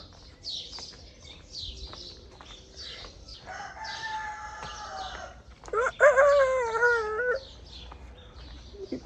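Chickens cluck and chatter near and far over a quiet yard, with a louder drawn-out crowing call rising in the middle.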